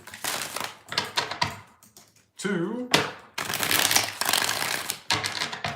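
Tarot cards are shuffled in several quick, crisp riffling bursts, close and fairly loud, separated by brief pauses, with a voice speaking a short count between the shuffles.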